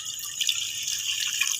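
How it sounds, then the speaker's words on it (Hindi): Milk is poured into tea brewing on the stove, giving a soft, continuous splashing trickle that sounds close and fairly quiet, with no talking over it. "अब इसमें डाल देंगे दूध"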